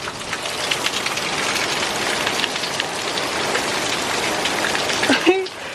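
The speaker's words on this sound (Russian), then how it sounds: "В общем, дождь разошелся" A heavy downpour roars as a dense, steady wash of rain with splashing, close and continuous throughout, with a brief sound near the end.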